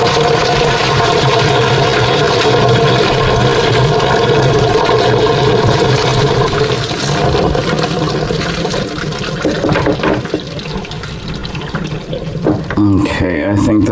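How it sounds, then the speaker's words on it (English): Pasta water is poured through a strainer in a kitchen sink, producing a loud, steady rush and splash of draining water that thins and sputters toward the end, with a few clattering knocks. "I've already got my pasta strainer out. I'm just gonna drain these noodles."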